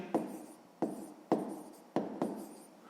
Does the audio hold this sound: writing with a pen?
yes